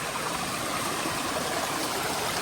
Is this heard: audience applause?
no